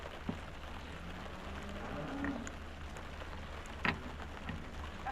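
Steady rain falls outdoors during wet weather while a tire is being changed, a soft constant patter with a few louder nearby drops, with no voices.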